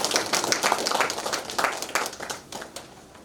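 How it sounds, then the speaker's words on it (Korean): Audience applause at a small business policy briefing, a dense crackle of many hands clapping, strong at first and then thinning and fading near the end, with no talking. "큰 박수 부탁드립니다"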